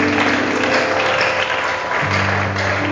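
A church congregation applauds in a steady, dense wash of clapping that fills the room, with a low organ or keyboard tone sustained underneath.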